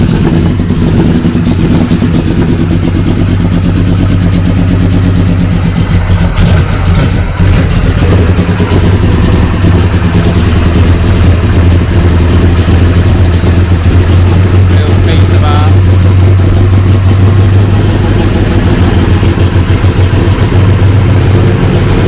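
Truck engine running close by for a long stretch, a loud, steady low throb with small shifts in revs, and a voice talking over it at times.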